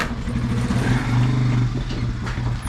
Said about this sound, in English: let me fire up this mini bike.